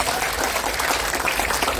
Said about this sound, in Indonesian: Tepuk tangan dulu dong buat Pak Henry